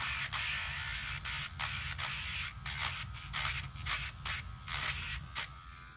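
A battery-powered nail grinder sands a dog's nails with a steady high whirring buzz, broken by short rhythmic grinding touches, close up and with no one talking.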